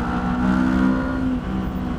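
A Yamaha motorcycle accelerates on a highway, its engine a close, loud rising drone that eases off after a second or so and settles into a steady hum.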